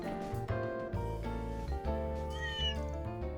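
Little gray cat meowing in the video game Trails Through Daybreak II, plaintive drawn-out meows over steady game music, several in a row.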